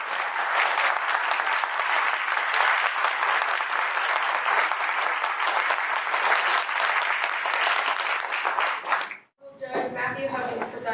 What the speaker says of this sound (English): Parties, let's give the folks a round of applause.